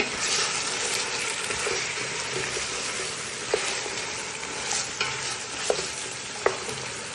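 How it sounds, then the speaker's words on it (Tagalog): Halved potatoes being stirred into kabsa with bell pepper in a pot, a dense continuous sizzle with stirring noise close up and a few sharp clicks of a spoon against the pot. "At nag-add nga pala ako ng dalawang potato. Hinati ko lang siya ng 4 piece. Mix ko lang siya."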